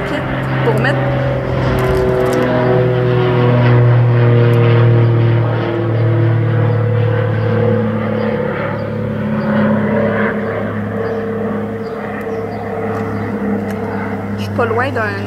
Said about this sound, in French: ça arrive qu'il y a des avions qui passent qui font bien du bruit